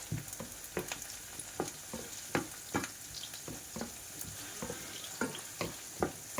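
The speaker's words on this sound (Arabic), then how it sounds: "ها هي البصله ديالنا، هي تقلى" Onion sizzles steadily in a pan while a spoon stirs and taps against it in quick, irregular knocks close by. No one speaks.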